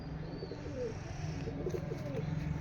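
Domestic pigeon cooing softly nearby in a loft, a few low throaty coos over a faint background hum, with no talk.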